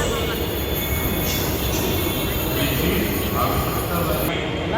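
A metro train at Hyderabad metro station at night makes a loud, continuous rumble and hiss with faint wheel squeal, while voices murmur in the background.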